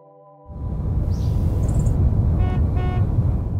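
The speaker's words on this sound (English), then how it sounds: "Portland wakes up to the sound of honking cars" Steady roadway traffic roars in Portland, Oregon, and a couple of short car horn toots sound amid the rumble.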